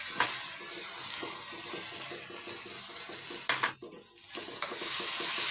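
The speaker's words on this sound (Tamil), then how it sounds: "தக்காளி வெங்காயம் தாளித்தம் செஞ்சது எல்லாமே நல்லா ஒரு சேர வதங்கட்டும்" Tomato, onion and tempering sauté in a pan for a square egg gravy, with a close sizzle and repeated scraping stirs, briefly pausing before the frying noise returns.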